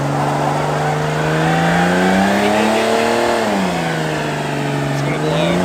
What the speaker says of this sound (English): Oh, that's how you get the left tire to spin.